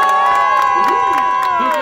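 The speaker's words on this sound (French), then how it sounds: "on applaudit très très fort" Crowd cheering and shouting at an outdoor podium ceremony for a Va'a outrigger canoe race at Les Sables-d'Olonne, loud and continuous with whistles and raised voices over a music or PA tone.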